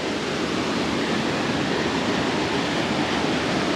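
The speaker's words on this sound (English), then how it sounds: "there is a very pretty waterfall" A waterfall pours into a creek in Rocky Mountain National Park, making a steady, full rush of falling water close by, with no pauses or voices over it.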